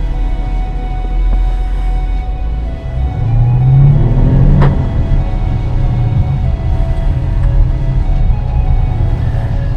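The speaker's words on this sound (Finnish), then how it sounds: "Heti ensimmäisestä kaasun painalluksesta lähtien, jota muuten ei tarvitse tehdä kovinkaan paljon, niin tuo moottorin ääni" An Audi SQ5 engine gives a loud, steady rumble under acceleration from inside the car, swelling slightly partway through, with no voices.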